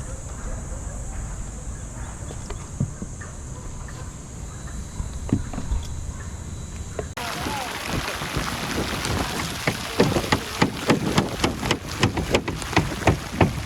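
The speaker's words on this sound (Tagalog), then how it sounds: "Biglaan kasi yung ulan ngayon mga kabayan." Sudden rain falls during an asphalt shingle roof installation, with a steady wash at first, then heavier, close, crackling pattering from midway on. Voices are heard underneath.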